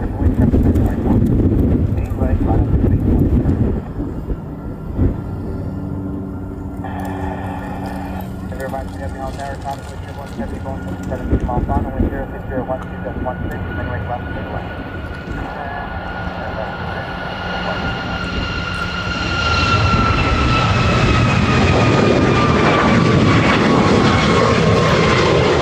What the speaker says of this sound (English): the next arrival on full right will be an American. It'll be a 321 Neo.